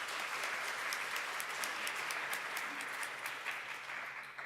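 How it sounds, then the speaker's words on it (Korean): A church congregation applauds after a sermon's praise singing with dense, even clapping. It stays moderately quiet and a little distant throughout, tapering near the end. "박수 한번 해드리겠습니다."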